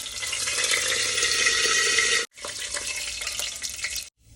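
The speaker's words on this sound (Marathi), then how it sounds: "दोन चमचे मोहरी घालूया हे दोन चमचे कढीपत्ता घालूया" Mustard seeds and curry leaves hit hot oil in a pan, a loud, dense crackling sizzle that breaks off briefly and then resumes, close by with no talking.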